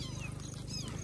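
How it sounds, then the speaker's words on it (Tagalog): A rescued kitten near the seaside gives a brief, faint low purr with a soft meow-like whine over it, lasting only a moment. "Pusa dito guys."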